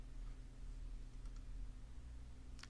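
Keys on a computer keyboard tapped in a few short, quiet clicks over a steady low hum, with a last small cluster at the end.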